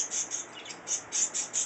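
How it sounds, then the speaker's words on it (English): Birds chirp outside in short repeated bursts, a fairly faint series of high tweets with brief pauses between them, heard alone without talk. "Birds are loud, huh?"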